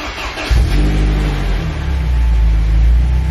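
A BMW E30 engine cranks and catches, then settles into a loud, rumbling rev with a steady low growl, close up and alone without talk.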